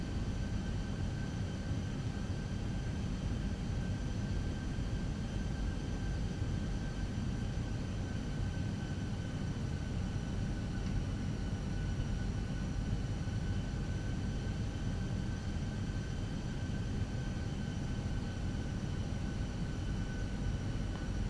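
Airbus A320-200 jet engines in Microsoft Flight Simulator, a steady, even whine and roar that holds level without fading.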